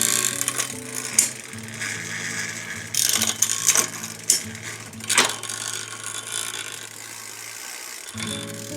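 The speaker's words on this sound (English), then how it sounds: "That wheel, I think, would spin forever." The freely spinning wheel of a never-assembled, 45-year-old new-old-stock bicycle ticks from its ratcheting freewheel in a steady, close clicking that runs several seconds, pauses briefly, then resumes.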